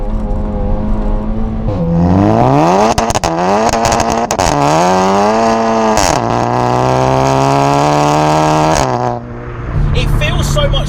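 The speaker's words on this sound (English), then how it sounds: "A Scorpion full exhaust system on this that genuinely sounds phenomenal" A Seat Leon Cupra hot hatch with a Scorpion full exhaust system revs hard and loud, with repeated rising pulls up through the gears, sharp shifts and crackles between them, all close and dominant.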